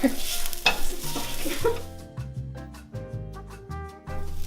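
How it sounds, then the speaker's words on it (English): Hot butter is gently stirred to reheat it, making a soft scraping stir and light sizzle for about two seconds before music takes over, with no talking. "Just gently stir it in to reheat."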